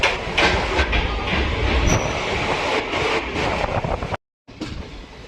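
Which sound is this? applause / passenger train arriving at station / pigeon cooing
passenger train arriving at station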